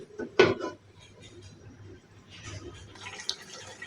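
A metal spoon stirs fatty meat and taro greens in a pot, cooked North Bengal style: one sharp metallic clank, then soft, quiet scraping and shuffling nearby.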